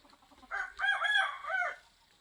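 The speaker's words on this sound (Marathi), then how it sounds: "बघा असा कोंबडा बाग देतो" A single rooster crows once on a poultry farm, a short cock-a-doodle-doo, clear but moderately distant against a quiet background.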